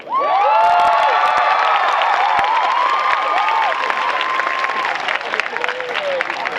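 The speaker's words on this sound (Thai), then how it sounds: "ปรบมือให้สลิมกับใจทุกคน" Loud crowd at a Khon Kaen political rally applauding, cheering and shrieking continuously, with high whoops and screams riding over dense clapping throughout.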